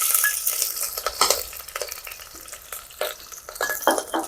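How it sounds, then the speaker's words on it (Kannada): Curry leaves, green chili and grated ginger frying in a pan, a continuous bright sizzle with scraping stirring strokes and occasional spatter pops, close and loud, with no voices. "ಇದನ್ನು ಸ್ವಲ್ಪ ಫ್ರೈ ಮಾಡ್ಕೋಬೇಕು."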